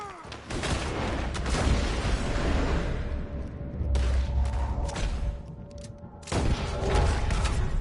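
Gunfire in the Western video game Red Dead Redemption 2 comes as loud, rapid bursts of shots and booming volleys, pausing briefly and then resuming in dense, overlapping fusillades.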